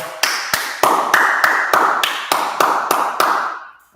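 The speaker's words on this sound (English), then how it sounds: "Clap it up" About a dozen sharp, evenly spaced hand claps ring out at a quick steady rhythm, loud and close, in a room with a slight echo after each clap, ending abruptly.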